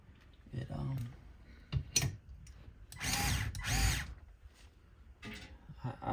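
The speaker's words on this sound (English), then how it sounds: "And I like this Makita screwdriver." A Makita electric screwdriver runs in an office in short whirring bursts, with a longer two-part run in the middle, separated by softer handling noises.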